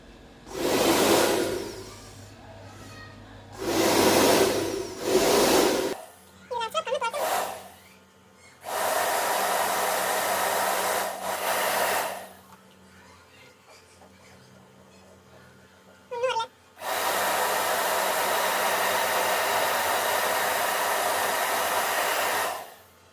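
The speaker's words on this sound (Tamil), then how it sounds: "இப்போ நம்ம வந்து இந்த ஹேர் ட்ரையர் எடுத்திருக்கோம்." Handheld hair dryer used on eyelashes for a makeup hack, blowing in several steady bursts with pauses between them, close and loud, with short breathy sounds in the gaps.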